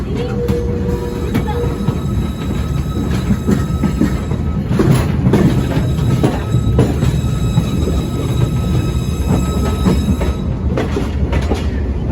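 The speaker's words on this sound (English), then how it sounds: "It is a GE 50-ton center cab switcher locomotive, and it was built in the mid-1930s for a individual in Ontario." A GE 50-ton center cab switcher locomotive from the mid-1930s rolls along rail with a steady rumble, clacking wheels and sharp metallic squeals, heard loud and nearby.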